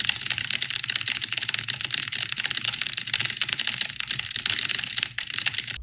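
Very fast, continuous typing on a computer keyboard, a dense unbroken clatter of keystrokes, close and loud throughout with no talk.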